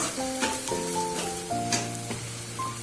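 Red chillies sauté in a pan over medium heat while making roti churma, a steady close sizzle with a few scraping strokes and faint tonal clinks.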